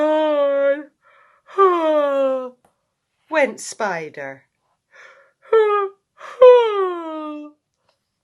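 A voice imitates yawns in a children's story about animals waking up, giving several drawn-out falling yawning sounds with short spoken words between them.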